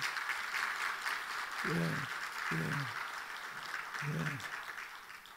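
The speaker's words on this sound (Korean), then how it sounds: "우리 박수로 한번 환영하십시다." A church congregation claps steadily in a large room during a Wednesday night service while a voice speaks a few short phrases in Korean over the applause.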